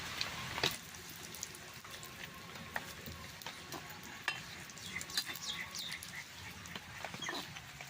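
Curry leaves frying in hot oil in a pan give a quiet, crackling sizzle with occasional clicks of stirring, heard alone and fairly faint.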